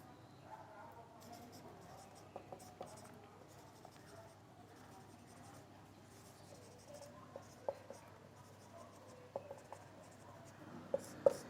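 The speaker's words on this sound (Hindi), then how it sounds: "मैं यहाँ लिख देता हूँ।" Marker or pen writing on a board during an exam answer-writing lesson: a quiet, faint run of scratchy strokes with small ticks and taps, under a low room hum and no talk.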